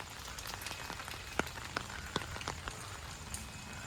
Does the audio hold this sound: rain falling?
yes